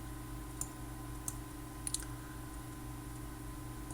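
Sparse mouse clicks, about four or five faint taps spread across a steady computer hum, with one quick double click near the middle.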